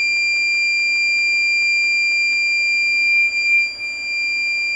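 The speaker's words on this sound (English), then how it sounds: "As you can see that when the yacht is reached the 3 meters, it will alarm." A yacht's echo sounder depth alarm, set to trigger at three meters, sounds a steady, continuous high-pitched electronic tone that holds clear and unbroken throughout, with faint background noise beneath.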